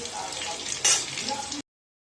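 Vegetable chops sizzle in hot oil, a short continuous frying hiss with a brief louder burst near the middle, heard close up.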